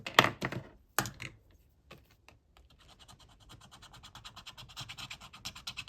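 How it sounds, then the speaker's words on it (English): A wild card on a scratch-off ticket is scratched with quick, rapid scraping strokes up close, starting with a few sharp taps, then settling into a busy run of fine rubbing, quiet and without speech. "Let us scratch off a wild card."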